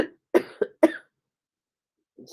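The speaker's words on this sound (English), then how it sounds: "I have a hard time talking without coughing" A person coughing in three quick harsh bursts close to the microphone, followed by a pause and a faint start of another sound at the end.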